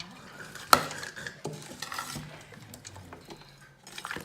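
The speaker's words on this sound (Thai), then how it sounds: "คนให้เข้ากันเลยวันนี้นะ" Stirring a Lao-style chicken feet salad with lime peel and juice, a sharp utensil clink against the bowl early on, then soft scraping and mixing sounds at close range, no voices.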